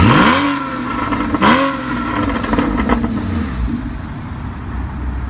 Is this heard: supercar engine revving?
yes